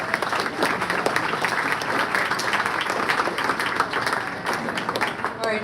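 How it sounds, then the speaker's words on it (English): A roomful of guests at a school sports awards dinner claps for the coaches, a dense, lively applause with distinct individual claps, steady and loud for several seconds. "Give a round of applause for your coaches."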